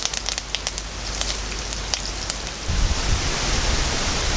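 Mustard seeds and curry leaves sizzle in hot oil while cooking a village-style horse gram masiyal, giving a continuous crackling hiss with scattered pops, heard close and steady with no talking.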